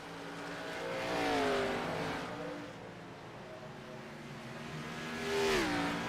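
Race car engines on the track at New Hampshire rise and fall in pitch as cars pass, with two clear surges of revving engine swelling and fading against a steady background hum.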